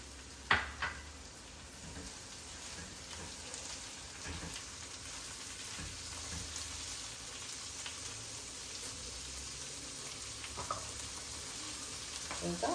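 Carrots and peas for broccoli upma sizzle quietly in a pan, a soft steady frying crackle with a few clinks of stirring near the start and end.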